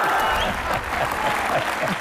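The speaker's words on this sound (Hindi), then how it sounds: "जोरदार तालियां" Loud applause from a comedy show studio audience fills the whole clip, dense steady clapping close to the listener.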